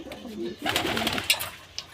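Pigeons coo softly close by after being fed, a short run of low throaty calls with a couple of small sharp noises.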